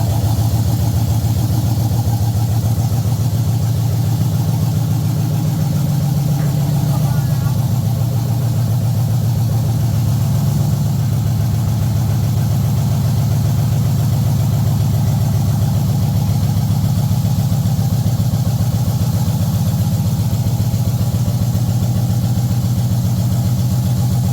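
A truck's LS-swapped engine running steadily in a hot rod shop, a loud continuous low rumble that holds an even idle throughout with slight swells.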